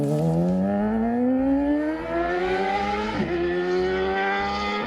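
A combustion motorcycle engine and exhaust rev up close, the pitch rising steadily, dropping at a gear change and climbing again, loud and alone.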